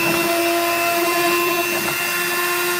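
Dremel rotary tool cutting a slot into a bolt while removing an ECU from a Citroen or Peugeot car, a loud, steady high-pitched whine with a gritty grinding edge, close up and continuous.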